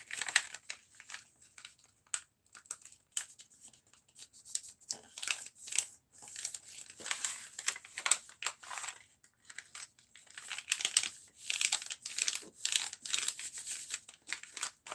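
Sheets of paper are folded into three, with repeated close, soft crinkles, creases and rustling handling noises coming in irregular bursts, quiet and alone.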